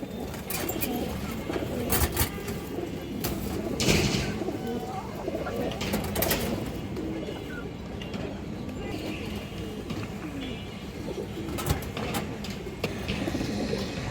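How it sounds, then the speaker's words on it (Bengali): Pigeons coo softly and repeatedly in a loft of fancy breeds, the calls mixed with flapping, shuffling and scattered clicks, while someone talks nearby. "খুবই সুন্দর একটা মাদি কবুতর"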